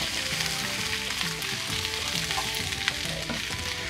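Shiitake and portobello mushrooms frying in a pan, a steady crackling sizzle with faint stirring scrapes, close and continuous with no voices.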